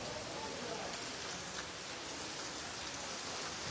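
Heavy rain pours in Juri, Moulvibazar, Sylhet during flooding, a dense, unbroken hiss of drops striking surfaces at a constant level from start to finish.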